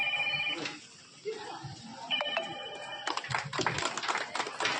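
A telephone rings in two short bursts amid crowd chatter and an announcer's voice during a Krishnashtami celebration at a Sri Krishna temple, with clatter and bustle continuing afterward.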